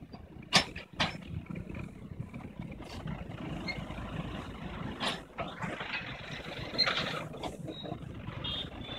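A Mahindra 595 tractor engine labours while hauling a heavy load of about 400 quintals, giving a steady loud rumble with intermittent sharper bursts, nearby and without talk.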